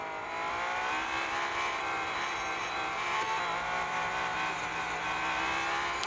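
A race car in a racing video game drives at a steady high engine pitch, a continuous droning roar with a sustained tone and no talk.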